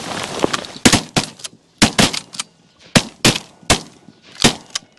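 Shotgun blasts from an opening-day duck hunt in Canada: about nine loud, sharp reports spread irregularly across the span, some in quick pairs, each with a short echoing tail.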